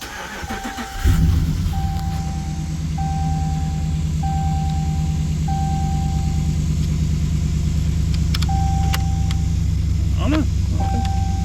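A Hemi-powered Ram truck cranks and fires about a second in, then settles into a steady, loud, rumbling idle, with short electronic chimes and beeps sounding over the engine.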